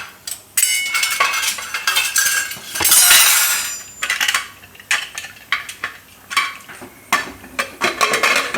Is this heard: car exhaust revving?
no